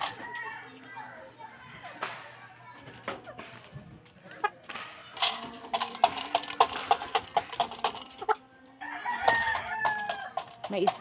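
Chickens cluck and squawk close by while a rooster crows, mixed with sharp pecking clicks and faint voices in the background.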